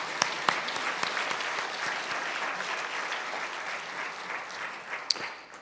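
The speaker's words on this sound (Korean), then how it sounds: "하나님께 영광의 박수 드리겠습니다" A congregation at a pastor's installation service claps together in sustained, moderately loud applause, with a few sharper individual claps standing out at the start and end.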